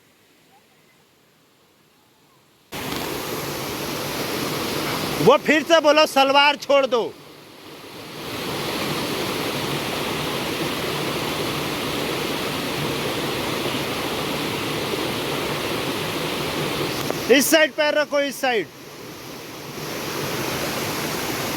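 Rushing water at Gulari waterfall, a loud, constant broadband roar running through the whole clip, with people talking briefly over it twice.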